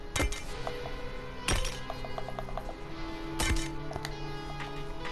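The Studded Axe pickaxe in Fortnite swings three times with sharp metallic chops, between them a mechanical clinking, ratcheting hum, close and clear, with no talking.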